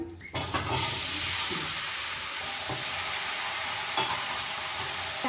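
Dry red chilli, a bay leaf and panch phoron spices hit hot oil in a pan for a Bengali hilsa-head and bottle gourd dish, bursting into a loud continuous sizzle with a brief stir clatter near the start.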